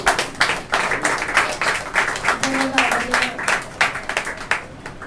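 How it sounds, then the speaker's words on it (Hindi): Congregation clapping during a Sunday church service, a lively, uneven round of applause with loud individual claps standing out, mixed with a voice speaking over it. "आइए जोरदार तालियां परमेश्वर के दास के लिए।"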